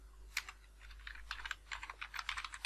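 Rapid, uneven keystrokes on a computer keyboard while VBA macro code is entered, a close, fairly quiet run of clicks in short bursts with brief pauses.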